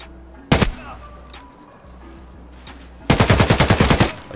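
Gunfire in the Escape From Tarkov video game, a single loud shot followed later by a rapid burst of about ten shots, close and loud over low game ambience.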